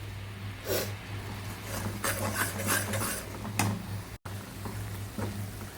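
A spoon stirs dry fruits with honey in a bowl while making dry fruit laddu, giving scattered clinks and scrapes over a steady low hum, with no talking.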